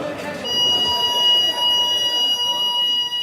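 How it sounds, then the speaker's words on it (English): Alarm system going off inside Mountjoy prison in Ireland: a loud, continuous electronic tone rings steadily throughout, with a busy, noisy background of voices and movement. "staff can activate an alarm system to call for help"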